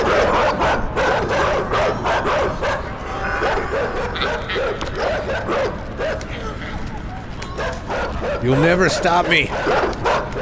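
A dog barks repeatedly in the video game Inside, a fast run of yips and barks, some close and whimpering, while a person talks over much of it.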